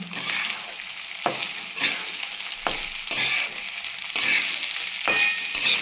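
Lemon rice stirred and fried in a pan, with steady sizzling under repeated scraping stir strokes about once a second, close and moderately loud.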